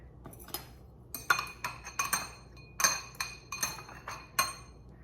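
Metal spoon clinking against a dish while scooping stuffing into mushrooms, a series of light, close taps and scrapes in irregular bursts, with no talking.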